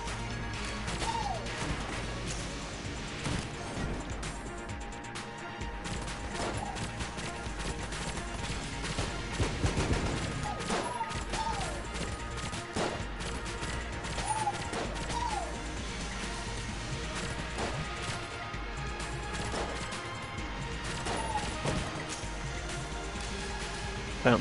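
Bouncy bullets fire and ricochet in the video game Enter the Gungeon, with steady cracks and clattering impacts over busy game music and effects throughout.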